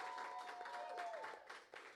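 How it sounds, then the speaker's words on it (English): Audience applause during an improv script workshop, a moderate wash of clapping with a faint tonal whine running through it, fading slightly toward the end. "we need to give them one more round of applause"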